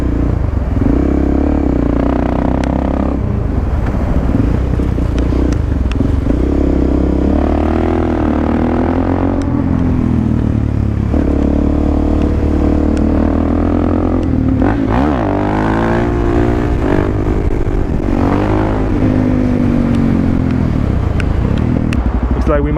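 Supermoto motorcycle riding through Los Angeles traffic alongside a Bugatti and a Koenigsegg Agera RS, with a loud continuous engine drone, shifting revs and brief throttle surges, heavy wind noise and a voice talking over it.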